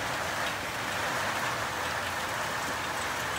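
Rain falling outdoors in Australia as showers roll in over low-lying areas, a dense even hiss of drops continuing without pause.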